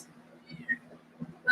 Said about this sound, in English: Hush, cat.